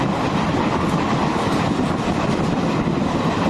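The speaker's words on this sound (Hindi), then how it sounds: "हमारी ट्रेन द्रुत गति से बढ़ती हुई अपने लक्ष्य की ओर, जबलपुर की ओर।" An Indian Railways train runs fast through the Satpura forest toward Jabalpur, giving a steady, loud rumble and rattle of wheels on the track with no pauses.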